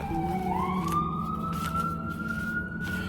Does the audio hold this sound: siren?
yes